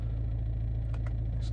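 A BMW 1 Series engine idles steadily with a low, even hum and faint rhythmic pulsing throughout, a few brief higher clicks rising over it, no talking.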